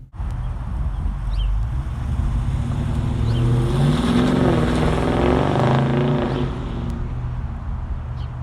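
A 2020 Dodge Charger 392 Scat Pack Widebody pulls away, its engine rumbling low and building into a louder, rising acceleration before easing off, with no talk.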